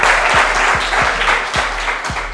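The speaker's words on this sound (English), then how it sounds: "Let's give them a huge round of applause." Loud, steady applause from a school audience greets Ntare School at a secondary schools quiz challenge, a dense continuous wash of clapping with a faint low hum and periodic thumps beneath.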